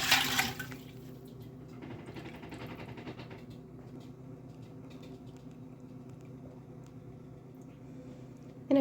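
Whey is ladled off drained cheese curds during raw cow's milk gouda making, giving a steady low liquid trickle and soft splashing that runs throughout, with a brief louder slosh at the start and end.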